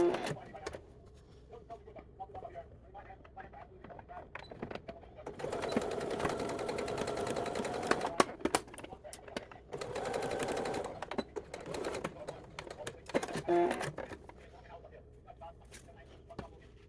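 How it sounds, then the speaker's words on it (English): Domestic sewing machine stitching the front bodice pieces of a vintage-inspired summer dress, running in two steady bursts of several seconds each with quieter pauses between, close and moderately loud. "I am starting on the bodice here, so these are just the front pieces or the top pieces that are going to be stitched onto it."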